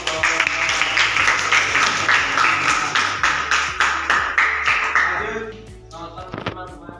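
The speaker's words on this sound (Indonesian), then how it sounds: "Oke, ya tepuk tangan untuk" Classroom applause for a group presentation: many hands clapping together in a dense, steady burst for about five seconds, then fading into a few scattered claps.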